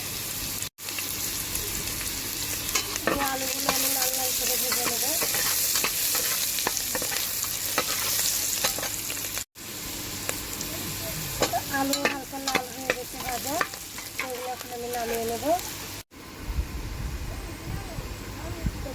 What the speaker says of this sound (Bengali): তেল গরম হয়ে গেছে এখন আমি আলুগুলো ভেজে নেব